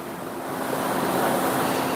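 Ocean waves and sea wind heard from the deck of the cruise ship Voyager of the Seas nearing Costa Maya, Mexico, a steady broadband rush with gusty microphone wind that swells slightly louder, with no talking.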